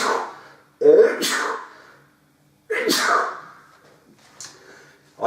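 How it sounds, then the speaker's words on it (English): A person sneezes twice, loud and close, each sneeze a sharp burst with a breathy tail and a quiet gap between. A fainter, shorter burst follows near the end. "Hold on, I'm going to start sneezing."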